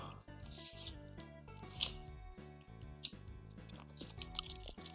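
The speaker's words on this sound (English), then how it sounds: "Trust me, I know how to use scissors, I think." Scissors cutting open trading card packaging for Digimon TCG BT10 Xros Encounter boxes, a few sharp close snips and crinkles of plastic wrap over faint background handling.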